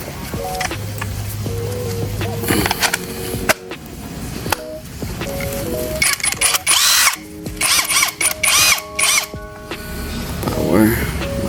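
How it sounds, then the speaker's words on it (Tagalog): Keelat impact wrench set to high power, its motor whirring and rattling in bursts of varying length through most of the stretch, loud and close, with intermittent background noise between runs. "papakita ko rin yung torque power nito, yung doon, para at least kita-kita talaga natin kung malakas pa talaga yung impact wrench ng Kailat"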